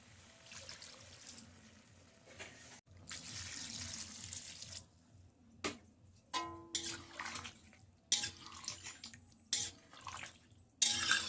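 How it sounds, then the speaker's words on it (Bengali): Water poured from a vessel into stirred vegetables for Bengali shukto, heard as several short splashy pours and clinks of utensils in a kitchen, with quiet gaps between bursts and no talk. "এইগুলো বেশ করে এইগুলো নাড়াচাড়া করে নিয়ে এর মধ্যে দিয়ে দেবো আমরা জল।"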